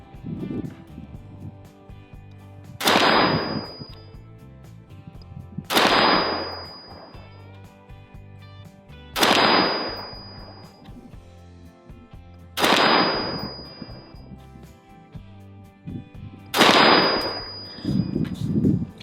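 A Colt Air Force Model 601 clone rifle fires 50 grain .223 varmint rounds, five sharp, loud single shots spaced about three seconds apart, each with a ringing tail, nearby and outdoors with no talking.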